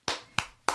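Three sharp hand claps, close and crisp, spaced about a third of a second apart, each one ringing out briefly into a quiet room.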